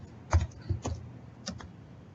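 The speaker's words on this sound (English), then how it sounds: "I type in very sensitive information like social security number" Typing on a computer keyboard while entering sensitive numbers, a few quick scattered keystrokes close by, with short pauses between small bursts in a quiet room.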